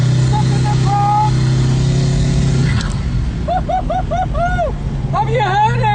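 A Koenigsegg Regera supercar holds a steady engine drone under light, feathered throttle, then drops off as a huge crowd cheers and whoops close by.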